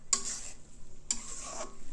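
Potatoes being stirred into mutton in a hot pan, with two bursts of scraping and sizzling, the first at about 0.1 to 0.5 s and the second longer at about 1.1 to 1.6 s, over a low steady frying hiss.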